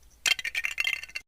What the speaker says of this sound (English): Let's import the Lego sound.